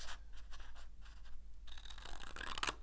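Scissors cutting paper strips for a simple Valentine pop-up card craft, a series of short close scratchy snips that build into a louder, busier rustle in the last second.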